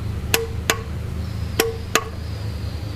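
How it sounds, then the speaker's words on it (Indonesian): Four sharp clicks from a torque wrench reaching its preset 41 Nm while tightening a fastener during basic servicing of a Hyundai Coupe GT (Tiburon), evenly paired and close, over steady low background hum. "Sudah ada tanda dari kunci torsinya, bunyinya seperti ini."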